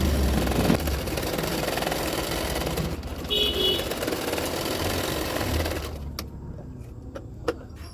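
A sewing machine runs in a fast, steady whir as it stitches a second seam on a blouse strip, then stops near the end, leaving a few faint clicks of handling; no talking.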